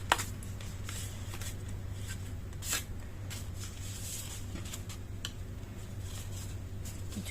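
Paper being folded and creased by hand to form a bag, soft scattered crinkles and sharp little creasing snaps over a steady low hum, fairly quiet and close, with no talking.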